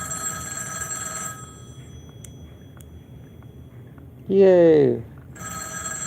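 A telephone rings with a steady electronic tone at the start and end, broken in the middle by a brief, loud, excited exclamation from a nearby voice.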